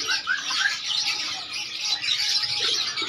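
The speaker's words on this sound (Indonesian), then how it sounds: "Ini teman-teman, jenis burung tekukur." Tekukur doves and other caged birds at a busy bird market in Makassar, with steady overlapping chirps, tweets and soft coos from many birds throughout.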